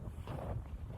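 A steady breeze buffets the microphone on board a boat out at sea, a low, rough rumble of wind that stays fairly even throughout and has no talking over it.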